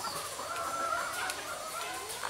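Soft clucking from a rooster over steady outdoor ambience, with faint bird calls in the background; moderately quiet and continuous.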